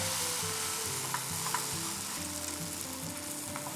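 Egg cooking on a paratha in a hot pan gives a steady, close sizzle and frying crackle that holds throughout, with a few faint taps and no voices.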